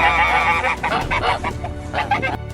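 Loud, repeated goose honks, harsh and nasal, calling in a steady series close by with several overlapping calls.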